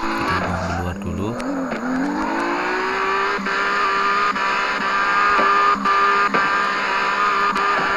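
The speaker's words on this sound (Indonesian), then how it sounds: "Itu suara mobilnya bagus banget sih ini." A drifting car in the video game CarX Drift Racing 2 roars with a sustained high engine whine and tire squeal, rising in pitch through a slide, loud and continuous with brief clicks.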